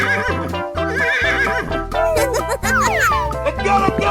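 A horse neighs and whinnies in a 3D animal slide video game, loud and near, with rising and falling squeals over busy game music and effects.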